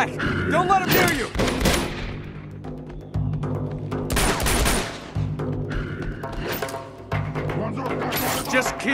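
Gunfire in the video game Uncharted 2 on PS5, with bursts of loud close shots and rattling volleys in irregular clusters over a continuous low rumble, mixed with in-game shouting and voices.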